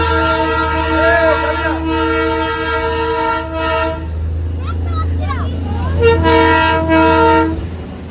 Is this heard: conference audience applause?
no